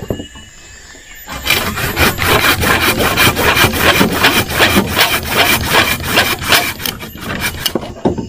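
A handsaw cuts through hard wood for floor rafters in about fifteen quick, rhythmic back-and-forth strokes, close and loud. The cutting starts after a brief quiet moment, with no talk.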